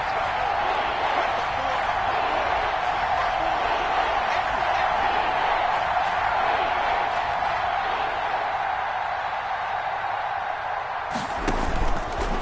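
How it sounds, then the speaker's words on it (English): A stadium crowd in the Madden NFL video game roars steadily and loudly throughout, with a sharp thump near the end. "The crowd getting into it as we come up on a big 3rd down."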